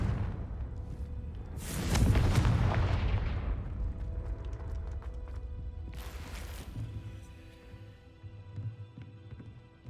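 Spell blast from a wizarding video game, a loud explosive boom with a long rumbling tail that rolls off over a couple of seconds, followed by a second shorter burst and lingering low ambience.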